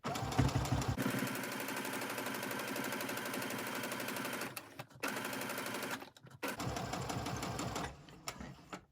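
A sewing machine runs fast and loud, stitching fabric for a mask and scrub cap, with brief pauses around four and a half and six seconds before the steady motor chatter resumes and trails off near the end.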